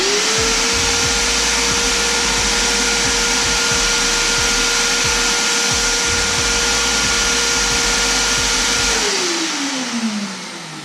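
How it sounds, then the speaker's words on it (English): A Porter Cable PCX18406-5B wet/dry vacuum runs loud and close with a steady high whine and airy roar, then spins down as it is switched off near the end. "this was my biggest concern when buying the Porter Cable Wet Dry Vac"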